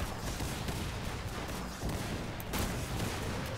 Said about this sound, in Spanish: yo disparo y ya está